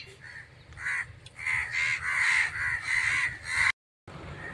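A crow caws repeatedly while caught in thorny bushes, harsh calls coming in a run of close, loud bursts before a brief cutoff, with no talk over them.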